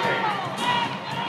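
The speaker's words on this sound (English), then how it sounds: "I think that's more of a sarcastic applause sent in the direction of Dixon Chun" Crowd at a Hawai'i women's volleyball match against CSUN in an arena, a sustained wash of scattered applause and murmuring that swells and dips over a second or so, fairly loud and continuous.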